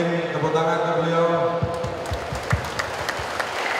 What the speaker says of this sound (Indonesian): Tepuk tangan ke beliau.